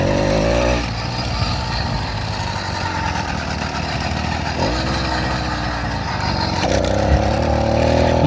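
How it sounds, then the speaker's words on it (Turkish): A motorcycle is ridden up a hill with a newly fitted ignition coil. The engine gives a loud, steady, close drone that rises and dips slightly as it pulls under load. "Şöyle motor da bayağı bir hızını aldı. Sesinden anlıyorsunuzdur."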